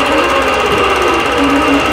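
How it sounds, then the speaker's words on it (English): Quilting machine stitching a spindle design along the border of a Trick or Treat appliqué quilt, a loud, steady, continuous mechanical whir and hum throughout, close and without talk. "We're going to be stitching right now on the border."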